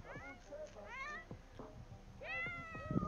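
A cartoonish pet cat meows several times in The Sims 4. The meows are clear, rising and falling, with a few short calls spaced over a few seconds.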